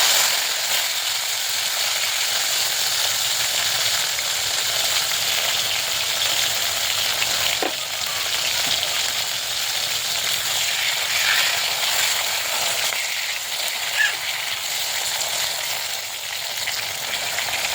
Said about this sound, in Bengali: তেল গরম হয়ে গেছে, কালো জিরে দিয়ে দিও।